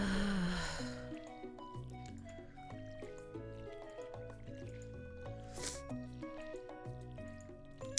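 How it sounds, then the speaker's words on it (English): Cartoonish squishy watering-can splashes from crops being watered in a farming video game, heard once near the start, followed by steady upbeat game music. "after I'm done watering the crops"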